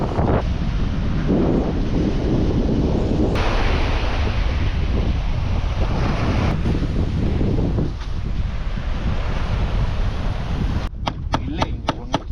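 Winter sea waves on the Sardinian coast roar in a continuous broadband wash, heavily mixed with wind noise battering the microphone, ending in a few sharp clicks.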